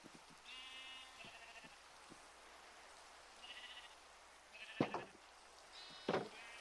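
Sheep bleating in Minecraft: several short, moderately loud bleats come in separate bursts, the last two louder, over a quiet background.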